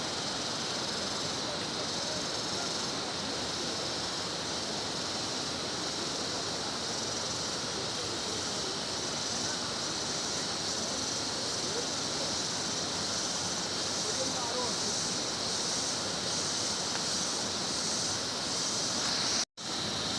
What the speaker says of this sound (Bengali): আশা করি সবাই একটু হলেও শুনতে পাচ্ছেন জলের আওয়াজ।